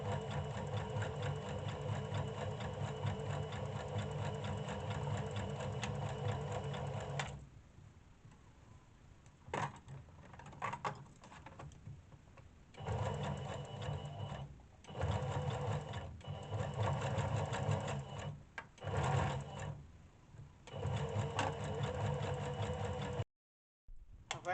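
A sewing machine zigzag-stitches a folded piece of scarf fabric for DIY wide-leg trousers, running in a fast, steady whir, pausing and restarting in several bursts, close and loud with no talking.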